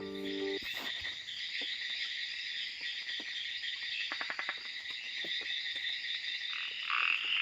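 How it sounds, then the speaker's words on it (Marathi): A Malabar gliding frog calls at night in a Western Ghats forest in Konkan, giving short clicking croaks in scattered bursts over a steady, dense chorus of crickets and insects. "या बेडकाचं नाव आहे मलबार ग्लायडिंग फ्रॉग"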